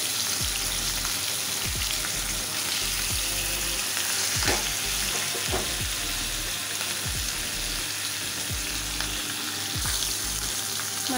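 Fish sizzles in hot oil in a village-style Odia kitchen, a dense continuous crackle and spatter close by with occasional sharper pops, no voices.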